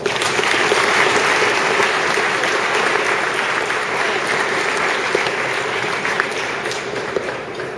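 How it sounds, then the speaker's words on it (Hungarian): Loud, sustained applause from a large crowd at a university graduation ceremony, many hands clapping in a dense, even roar that holds steady throughout with no talking over it. "kérlek titeket, hogy most egy nagy tapsal köszönjük meg nekik azt,"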